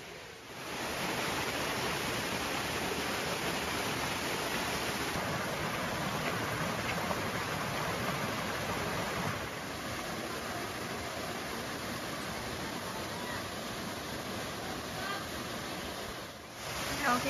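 Erawan waterfall in Kanchanaburi, Thailand, roars as a dense, constant rush of falling water, loud and close, without a break.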